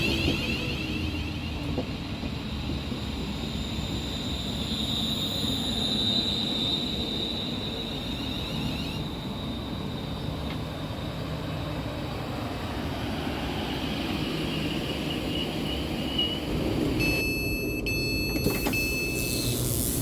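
A train arrives at a station with a steady rumbling roll and a high whine. It keeps up at moderate loudness throughout, with a few brief squeal-like tones late on.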